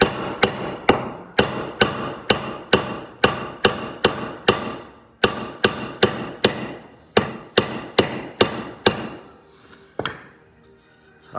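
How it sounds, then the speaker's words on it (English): An axe hammering a wedge into wood, with about twenty loud, sharp, ringing metallic blows in steady succession, close by, with a short pause near the end before a final strike. "So, see, I went a little deeper with my axe, wedge there."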